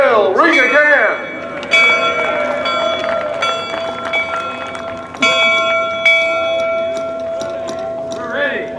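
A large bell rings in celebration, with struck tones repeating at irregular intervals and a long, sustained ringing decay between strikes, heard close and fairly loud.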